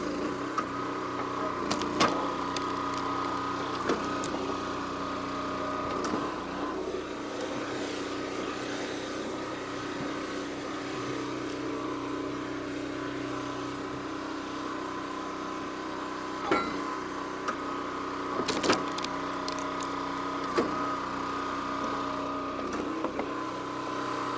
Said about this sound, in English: With that little Honda 13 horse engine, I believe it is, this thing runs quiet and it's smooth.